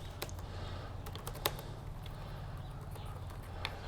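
Keys on an ASUS Strix GL553VE gaming laptop keyboard clatter in sparse, irregular clicks, a few sharper taps standing out over a steady low background hum, with no voices.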